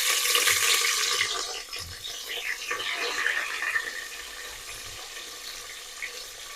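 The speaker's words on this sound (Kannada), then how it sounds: "ಈಗ ನೋಡಿ, ಈರುಳ್ಳಿ ಹಾಕ್ತಾಯಿದ್ದೀನಿ" Onions are dropped into a hot pan already holding cinnamon, cardamom, shahi jeera, marathi moggu and star anise for chicken donne biryani, giving a soft, continuous hissing sizzle while a person talks over it.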